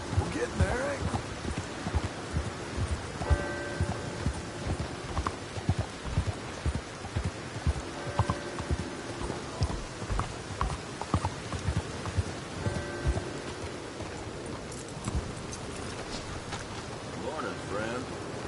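A horse gallops in Red Dead Redemption 2, its hooves pounding in a steady, rhythmic clop over a hissing, rain-like wash of background noise, with a voice briefly heard along the way.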